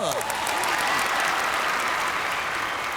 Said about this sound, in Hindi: एक दूसरे के लिए जोरदार तालियां।